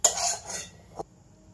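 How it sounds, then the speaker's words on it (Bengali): A utensil clinks and scrapes against a bowl while serving cooked lote fish jhuri curry, a bright metallic scrape followed by a softer tap, then quiet. "এবার আমি বোলের মধ্যে সার্ভ করব।"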